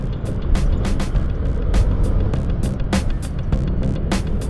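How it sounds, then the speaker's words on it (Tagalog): Steady road traffic rumbles close by, a constant low engine drone broken by repeated passing whooshes and brief rattles, with no one talking. "Traffic ah."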